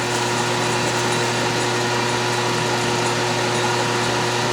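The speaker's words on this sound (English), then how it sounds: "Just make sure you don't drill all the way through it." A drill press bores a shallow hole with a stubby drill bit into a small part for a wiggler edge finder, fed gently. It makes a steady, even mechanical whine with a low hum that holds without pause throughout.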